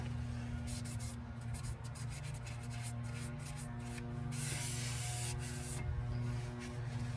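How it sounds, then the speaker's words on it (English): Brake cleaner sprays in hissing bursts onto a new brake rotor during a pad and rotor change on a 2007-2011 Toyota Camry, close and fairly quiet over a steady mechanical hum. "give it another courtesy spray of brake clean"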